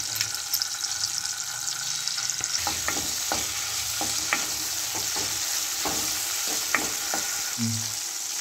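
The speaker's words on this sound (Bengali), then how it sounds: "মশলাটাকে ভালো করে কষে নেব।" Tomato and ginger paste frying in a pan with bay leaves, a steady bright sizzle running throughout while a spoon scrapes and stirs in irregular knocks, with a short low clunk near the end.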